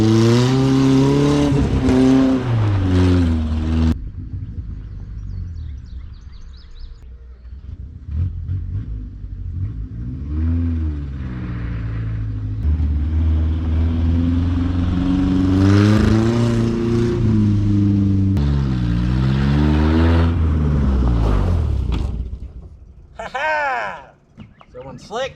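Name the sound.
1984 Mazda mini pickup truck engine revving while driving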